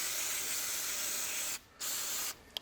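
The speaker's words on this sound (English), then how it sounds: "so we'll use a bit of brake cleaner" Brake cleaner sprays from an aerosol can onto a John Deere 1640 loader control valve being resealed, a steady close hiss that stops briefly twice before resuming.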